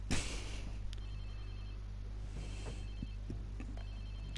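A telephone rings in short repeated electronic trills over a steady low hum, fairly faint and without talk, in the video game Watch Dogs 2.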